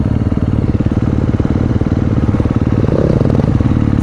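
A nearby motorcycle engine runs loud and steady with a pulsing, slightly clattering idle, its pitch rising briefly as it is revved near the end.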